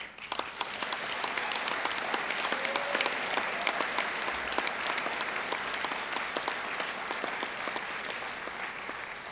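A large convention hall crowd of union members applauds workers, giving steady, dense clapping that holds at an even level throughout, with no talk over it.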